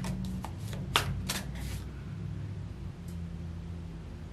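Tarot cards riffled and drawn from a deck: a quick burst of several crisp shuffling flutters near the start, then a softer single card slide, close and quiet with no voices.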